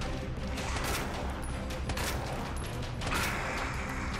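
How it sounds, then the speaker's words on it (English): Magnum shots in a video game, a few heavy reports rising out of a continuous, noisy layer of game combat sound, fairly loud and close, with no talking. "I'm going to shoot this guy with the Magnum this time around"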